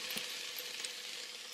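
Onions sautéing in an Instant Pot give a soft, steady sizzle with faint crackles, heard alone and quite quietly.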